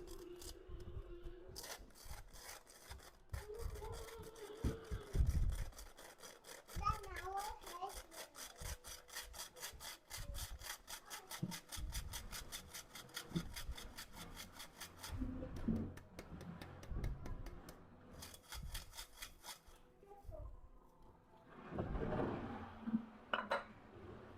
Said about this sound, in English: Sift all my dry ingredients together.